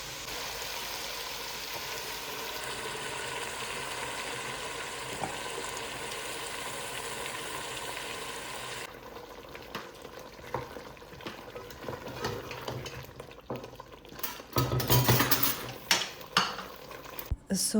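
Food frying in a pan on a home stove, with a steady sizzle under repeated scraping and stirring of a utensil against the pan, growing louder and more clattery toward the end; no talking.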